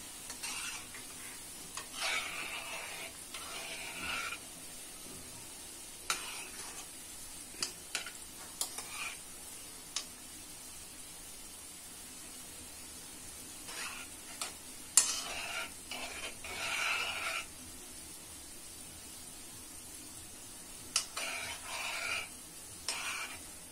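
Gulab jamun fry slowly in a pan over medium heat, a quiet steady sizzle with occasional soft clicks and scrapes of stirring.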